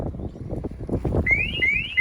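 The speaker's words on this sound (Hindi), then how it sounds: "अब अलार्म ऑन हो जाएगा गाड़ी का" The alarm of a 2023 Suzuki Brezza starts up partway through, rising warbling tones repeating over a rumbling outdoor background with wind noise.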